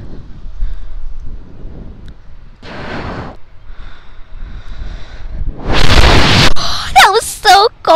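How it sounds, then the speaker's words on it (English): Strong, cold wind blowing outdoors straight into the microphone, heard as loud buffeting gusts that come and go and peak near the end, with short bursts of talk mixed in. "Cold, guys, it's so windy."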